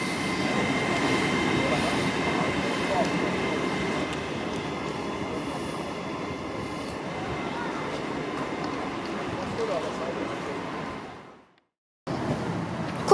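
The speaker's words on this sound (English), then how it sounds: "Cross-country service from Birmingham New Street going to Stansted Airport. 3 carriages cross-country by Arriva" A three-carriage CrossCountry train run by Arriva passes through Peterborough station with a sustained rumble and rail noise, fairly close, before the sound cuts out briefly near the end.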